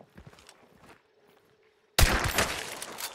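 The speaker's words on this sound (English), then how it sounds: "they're shooting zombies in the road down there" Gunfire at zombies in a video game: quiet scattered footsteps and faint shots at first, then after a near-silent pause a sudden loud burst of rapid close gunfire with trailing echo.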